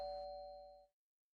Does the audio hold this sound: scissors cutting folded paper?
no